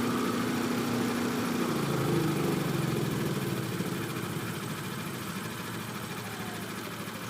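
A Yamaha Viking UTV fitted with a hush power muffler idles with a low, steady, quiet engine hum and no voices over it.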